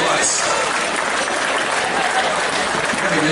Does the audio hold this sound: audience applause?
yes